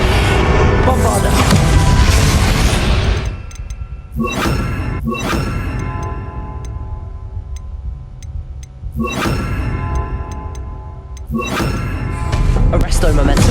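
Booming magical blasts and crashes from the Bombarda blasting spell in the Hogwarts Legacy video game, fought against Ranrok, come in loud bursts with ringing, tinkling debris between them.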